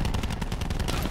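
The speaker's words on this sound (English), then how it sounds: "Sniper firing." Rapid, continuous gunfire from a sniper rifle in Call of Duty: Black Ops 4, a dense run of loud, close shots with no pauses.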